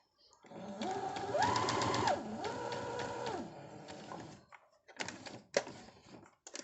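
A sewing machine stitching a tote bag during a repair runs in two quick motor bursts, then slows into a few separate clicking stitches as the hand wheel is turned.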